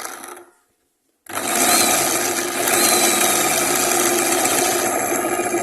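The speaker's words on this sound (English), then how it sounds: "on the left hand with my thumbnail I am pressing the drill machine's button" An electric drill machine, held in a clamp and switched on with a thumb on its button, drills a hole: after a brief fading whir and a second of silence, the motor starts loudly and runs as a steady, close high-pitched whine.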